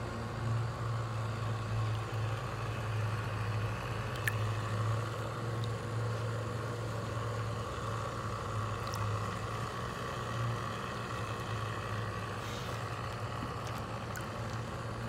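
A pool cover pump runs with a constant low motor hum and faint background noise, steady throughout with occasional small clicks, fairly quiet and alone.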